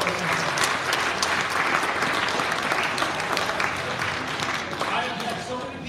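An audience breaks into dense, sustained applause: many hands clapping steadily and fairly loudly through the whole stretch, easing off slightly at the end.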